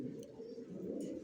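Racer pigeons coo in a low, continuous murmur close by, the soft rolling calls overlapping steadily with no voices present.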